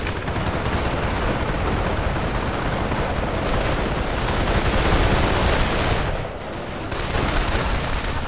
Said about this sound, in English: Oh no, another grenade!